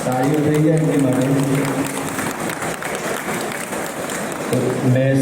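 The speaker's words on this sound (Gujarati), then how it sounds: "તાળીઓ થઈ જાય એમની માટે." Applause for prize winners at an animal competition award ceremony at a livestock expo in Gandhinagar, steady clapping from the crowd with a voice speaking over the start and end.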